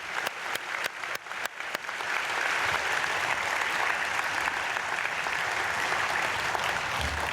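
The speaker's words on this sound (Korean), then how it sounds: "박수" A few scattered claps quickly swell into sustained applause from a church congregation at a dawn prayer service, steady and fairly loud until the end.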